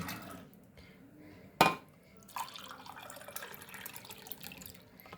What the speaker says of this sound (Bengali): আর দেব আমি এই কাপ মেপে 2 কাপ জল।